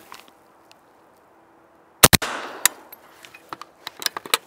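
A subsonic 7.62x39 round is fired from a short-barreled SBR rifle: after near silence, two sharp close shots ring out in quick succession, followed by clattering impacts, rattles and scattered knocks.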